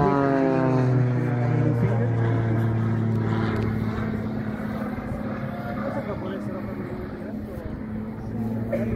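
Propeller aerobatic airplane performing at a military air show, its engine drone steady and fairly loud with sustained tonal harmonics that shift in pitch as it maneuvers overhead, under a commentator's voice.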